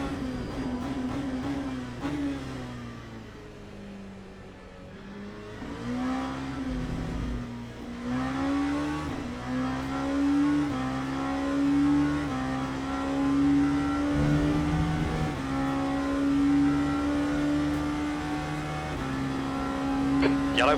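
Race car engine droning and shifting pitch through gears in Le Mans Ultimate, a multiclass race at Interlagos in a heavily damaged car, steady and close with other engine tones layered beneath and faint commentary.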